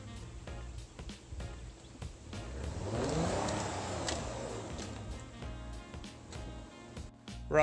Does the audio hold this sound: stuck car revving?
yes